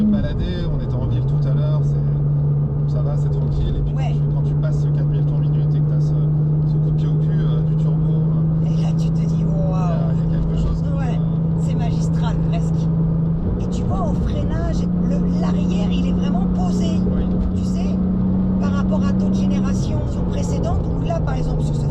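A Porsche 996 Turbo engine drones steadily while driving, its pitch holding fairly even with slight rises as revs build, loud and close from inside the car.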